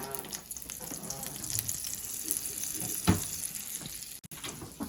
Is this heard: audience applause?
no